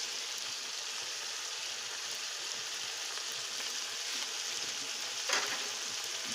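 Ginger garlic paste frying in hot oil gives a steady, fairly faint sizzle with a dense hiss that holds evenly throughout, broken only by one brief louder crackle near the end, no voices.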